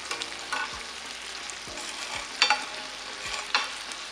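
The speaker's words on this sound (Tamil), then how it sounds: "சிக்கன் லைட்டாக திருப்பி விட்டுக்கலாம்." Chicken fries on a tawa with a steady soft sizzle, broken by a few sharper scraping clacks as the pieces are turned over.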